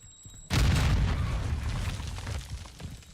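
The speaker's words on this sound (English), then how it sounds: "Throwing flash grenade!" A flash grenade goes off in Call of Duty: after half a second of quiet, a sudden loud boom erupts and then decays slowly into a rumbling, hissing tail.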